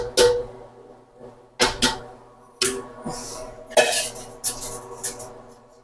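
The remaining rice is spooned on top of chicken biryani in a cooking pot, producing a series of close metallic clatters and scrapes of a spoon against the pot, with grainy rustling between them.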